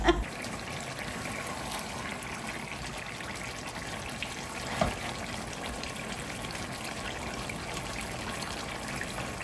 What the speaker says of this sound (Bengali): জলটা বন্ধ করে দিচ্ছি